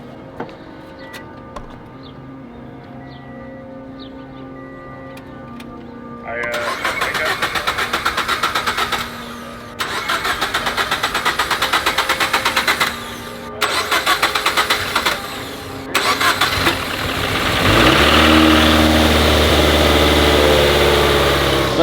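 An abandoned turbocharged Toyota FR-S cranks for a few seconds, then fires up and runs in loud surging revs broken by short gaps. It ends in a deep, rumbling run, close and with no talk over it.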